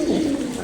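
A pet pigeon gives a single short, low coo close by, a brief throaty murmur fading out within a second.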